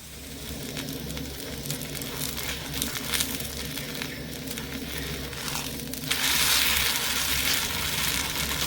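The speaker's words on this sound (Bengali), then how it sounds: "তো বাদ বাকি পরোটাগুলো ঠিক একইভাবে ভেজে নেবো" A paratha fries in an oiled pan with a low steady sizzle and occasional scraping, the frying hiss growing brighter and louder toward the end, heard close with no voices.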